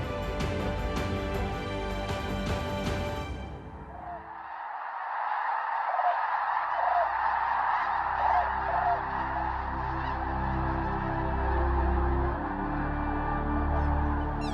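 Waterfowl honk and call on man-made Lake Karakol in Kazakhstan's Mangystau Region, a goose-like chorus of scattered honks heard fairly clearly after a stretch of music fades out.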